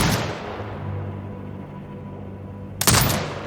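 In the video game Sniper Ghost Warrior Contracts 2, a turret fires: a fading boom at the start, a lull, then a sharp loud blast with a rumbling tail near the end.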